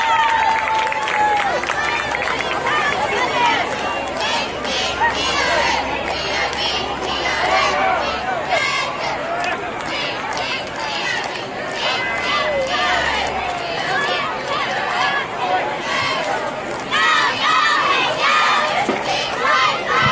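Crowd noise at a junior high school football game, with a dense, steady roar of cheering, shouting and chatter from the stands throughout, and children's voices rising over it.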